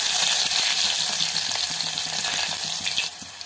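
Crushed garlic drops into hot oil with mustard seeds and cumin for a dal sambar tempering, giving a steady close sizzle and faint crackles, easing slightly near the end.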